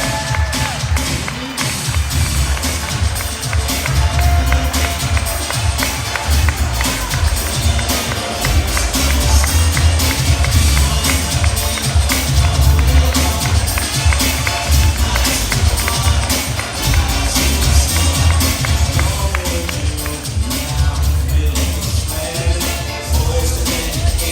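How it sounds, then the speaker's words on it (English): A large crowd at a college Decision Day event claps and cheers steadily for graduating students, with loud, dense applause sustained throughout and scattered whoops and rhythmic stamping. "Give them a big old round of applause, guys"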